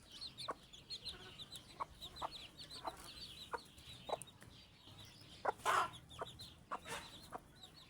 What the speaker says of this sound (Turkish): Şöyle yediğini de görebilirsiniz civcivlerin.